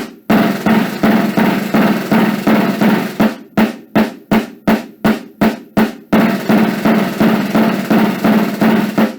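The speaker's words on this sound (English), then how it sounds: "you notice the buzzes almost overlap to the point where they're still buzzing when the next stick strikes." Rapid snare drum buzz strokes, close and loud: a sustained stretch of overlapping buzzes, a run of separate buzzed strokes, then continuous buzzing again.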